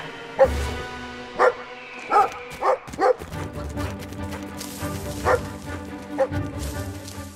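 Dog barking in the video game Brothers: A Tale of Two Sons Remake, a series of sharp barks spaced through the clip, fairly close, over a low game ambience with no talk.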